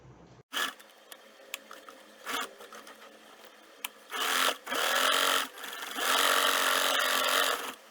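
Home sewing machine stitching a men's shirt collar stand, running in short bursts and then longer steady whirring runs, close and fairly loud with pauses between.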